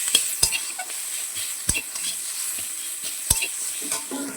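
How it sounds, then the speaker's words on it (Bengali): Salt and turmeric being sautéed in a pan for a meat curry: a spoon strikes and scrapes the pan several times with sharp knocks over a soft, continuous sizzle, close by and with no talking. "এটার মধ্যে আমি নুন, হলুদ দিয়ে একটু কষিয়ে নেব"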